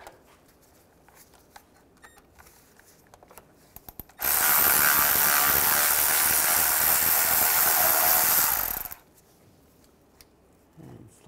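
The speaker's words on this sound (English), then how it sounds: "Use a 13 millimeter socket." A ratchet fitted with a 13 mm socket loosens the starter wire nut on a 2005-2010 Chevy Cobalt, a loud close burst of continuous rapid clicking lasting about five seconds between quieter handling noises.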